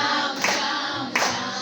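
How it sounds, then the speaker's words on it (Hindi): A large crowd claps along at a Khatu Shyam kirtan, producing a dense, loud wash of applause with two sharper surges, with no talking over it. "वो दोनों हाथ उठा के ताली बजा के"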